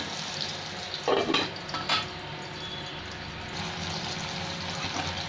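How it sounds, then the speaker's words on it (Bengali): Potatoes frying in a partly covered pan with salt, a soft steady sizzle with a couple of brief clatters or stirring knocks near the start, and no voices. "একটু ঢাকা দিয়ে দিয়ে আলুটা ভেজে নিচ্ছি।"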